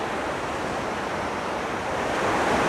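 A small stream of water falls from above inside the Grindelwald glacier gorge, giving a dense, unbroken roar of rushing water that swells slightly toward the end, loud and near.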